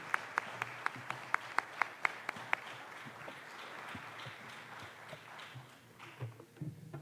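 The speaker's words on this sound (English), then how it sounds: "a round of applause for all of them together" Audience applause at a county administrator candidate forum, opening with several loud distinct claps that spread into a broad, steady round of clapping from the room and then thin out toward the end.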